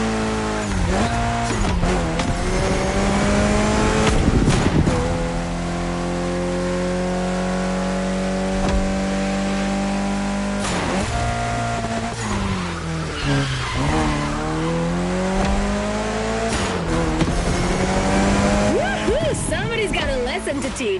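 Mitsubishi Lancer Evolution X driving in the racing game The Crew Motorfest, its engine revving and shifting through rising and falling pitches with bursts of tire squeal, loud and continuous under someone speaking.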